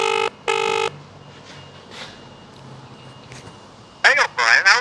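A phone video call rings out in two long electronic tones, then a stretch of quiet outdoor ambience, then warbling chime-like call tones near the end.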